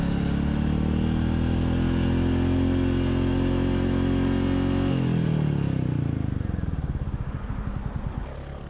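A Royal Enfield Meteor 350 cruiser motorcycle is ridden uphill toward an intersection with clutch and brake in use. The steady, loud engine drone shifts in pitch midway and then breaks into a rougher, uneven rattling noise.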